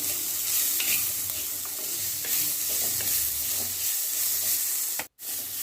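Onions sautéed with salt in a pan for a Tamil line keerai poriyal, a steady close sizzle under repeated scraping stirs. It runs continuously and drops out for a moment near the end, with no talk.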